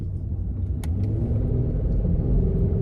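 A car driving along a road, heard from inside as a steady, loud engine rumble and road noise that holds throughout, with a slight rise in revving toward the end.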